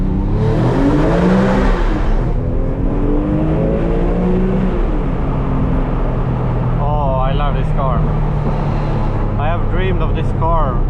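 Porsche 996 GT3 Clubsport flat-six engine revving and accelerating through a tunnel, loud and close, a steady rising drone with harmonic sweeps and sharp upshift changes late on, with voices faintly underneath.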